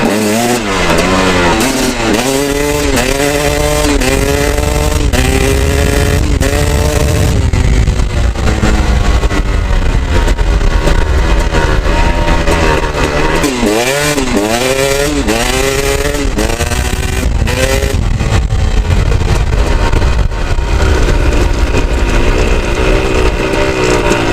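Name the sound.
KTM 250 SX two-stroke dirt bike engine revving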